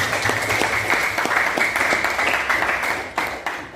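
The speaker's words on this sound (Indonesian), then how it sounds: "beri tepuk tangan" Classroom applause from students, a loud, close burst of many hands clapping with sharp individual claps audible, sustained for a few seconds before a brief dip near the end.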